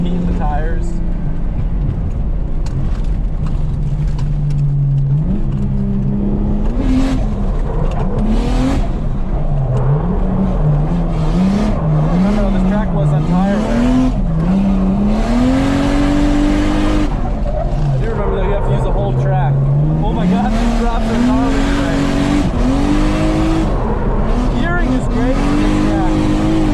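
A drift car on track revving hard with rising and falling engine pitch and intermittent tire squeal as the tires are heated, loud and close, with someone talking over it at times.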